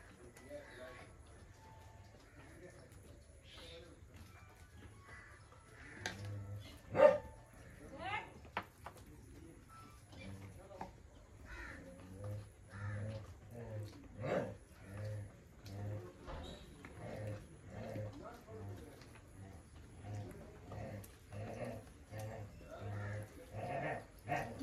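A dog outside the house whimpers and gives short barks while people inside eat meat, the cries coming in repeated bursts at moderate distance, mixed with a sharp bang and people talking indoors.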